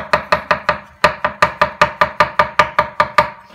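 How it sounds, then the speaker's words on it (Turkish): A knife chops mushrooms rapidly on a cutting board, about fifteen crisp, evenly spaced strikes with a short pause early on, close and loud. "Şimdi mantarlarımızı küçük küçük doğrayacağız."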